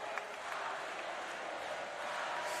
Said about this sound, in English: Student crowd on their feet jumping.